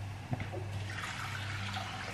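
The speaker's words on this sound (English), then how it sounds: "I'm just going to then cover that with some more boiling water." Boiling water pours and trickles over pearl barley in a cooking pan, a soft, steady liquid rush heard close up and fairly quiet, with no talking.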